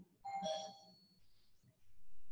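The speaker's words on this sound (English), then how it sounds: "The doorbell rang." A doorbell chimes indoors with a clear two-tone ding-dong that rings out and fades, heard fairly faintly with a little low background noise and no speech.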